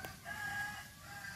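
A rooster crows faintly in the distance, a drawn-out call over a low background hum.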